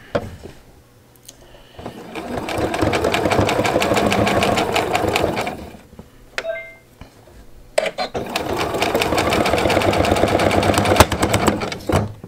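A sewing machine stitches a jelly roll rope bowl in two long bursts of rapid, loud, even needle chatter, separated by a pause with a few clicks.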